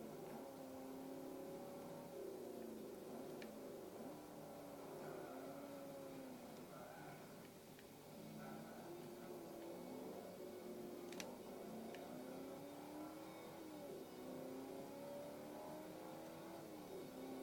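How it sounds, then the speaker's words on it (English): A car engine in the Forza 4 racing game drones and revs steadily, rising and falling in pitch over a continuous road hum, moderately loud and without talk. "What's wrong with my engine, man?"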